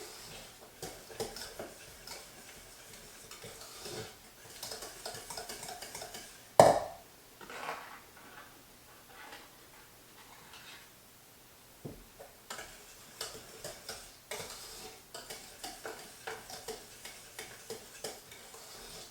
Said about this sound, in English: And then you want to slowly stir those in.